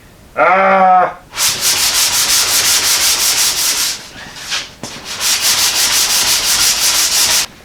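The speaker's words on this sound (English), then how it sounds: "I got all the bodywork sanded down good" Sanding car bodywork on the roof panels of a Model A hot rod shop truck, fast rhythmic rasping strokes, loud and close, with a short pause midway, following a brief squeaky sound at the start.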